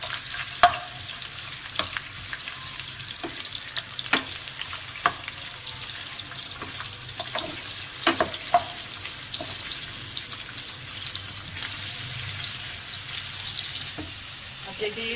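Onions sizzle and fry in ghee in a pan while khandli is cooked, a steady crackling hiss broken by regular scraping stir strokes and occasional clinks, close and continuous for about fifteen seconds without any talking.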